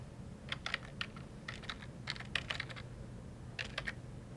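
Light keystrokes on a computer keyboard come in short bursts of quick taps, faint and close, over a low background hum with no one talking.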